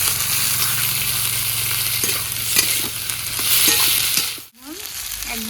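Chopped tomatoes hit reddened onions frying in oil for a small-fish curry, bringing a steady loud sizzle with scraping stirs and a brief clunk near the end.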